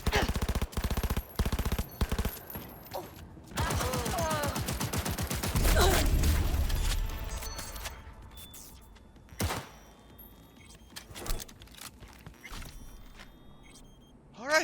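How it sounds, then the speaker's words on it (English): Sustained automatic gunfire in rapid bursts, loud and close at first, then thinning into sporadic single shots and distant pops as the shooting tapers off. "Someone's still shooting at us."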